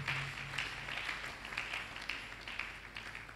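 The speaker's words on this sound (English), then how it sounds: "Are you clapping?" A church congregation claps steadily during a worship service, a moderately faint, even patter of many hands with no pause.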